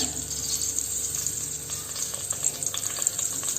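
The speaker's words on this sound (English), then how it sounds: "I put 2 tablespoons of oil. So in this I am going to add few bay leaves." Bay leaves and cinnamon sizzling in two tablespoons of hot oil while cooking Tirunelveli sodhi, a steady close frying hiss with small crackles, no talking.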